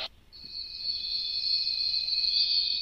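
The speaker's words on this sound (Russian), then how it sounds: "Вот это классно, как с сверчками." A baby night light sound machine playing a cricket setting: a continuous high, shrill electronic chirring trill that starts after a brief click and holds steady, nearby and fairly quiet, with no talking.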